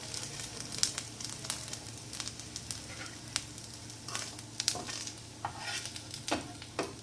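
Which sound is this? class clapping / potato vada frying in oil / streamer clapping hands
potato vada frying in oil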